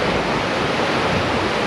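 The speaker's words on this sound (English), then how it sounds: "the little creek I was showing you on the other side of the highway joins another one" Small creek running where it joins another stream in the Tom Groggin area, a steady broadband rush of flowing water, fairly close and continuous with no voices.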